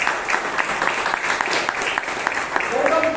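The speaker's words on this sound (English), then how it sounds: "Give a round of applause for Toastmaster" An audience at a Bangalore Toastmasters Club meeting claps in a steady, moderately close round of applause that runs the whole time.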